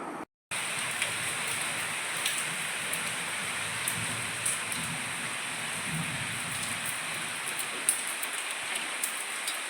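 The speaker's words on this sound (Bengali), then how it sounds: "এই দেখো এখানে না বৃষ্টি শুরু হয়ে গেছে, একটু আগে আরও জোরে বৃষ্টি পড়ছিল" Steady rain falls outdoors around an old family house, a dense continuous hiss of drops on surfaces with occasional louder splashes, heard close, after a brief silent gap at the very start.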